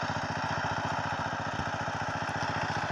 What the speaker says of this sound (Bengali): এটা আঙ্গেরি পাওয়ার টিলার দাদা আল বইতেছে।